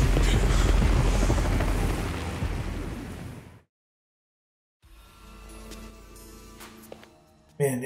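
Helicopter engine in the Yakuza: Like a Dragon video game, a loud dense roaring drone that cuts off into silence, followed by quieter game sounds with faint voices and a sharp burst at the end.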